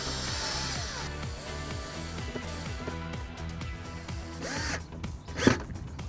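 Screws are driven into the outer side of a homemade wooden bedside table built from boards, with a steady ratcheting, rhythmic whir up close that ends in a couple of sharper knocks.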